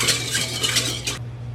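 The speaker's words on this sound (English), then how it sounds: "I will stir those until the sugar and salt are dissolved." A spoon clinking and scraping against a bowl while sugar, salt and olive oil are stirred into water for pizza dough, a few quick close taps over a low steady hum, then the stirring stops.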